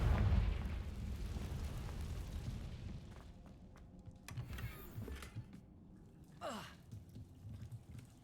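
A Confringo fire spell goes off in the Hogwarts Legacy video game, a deep rumbling blast at the start that fades into a low roar. A couple of sharper crackling bursts follow later.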